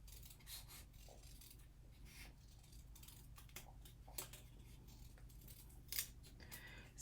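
Scissors cut through glitter paper for a scrapbook layout, a faint, steady run of crisp snips and papery rasps with a couple of sharper cuts near the end.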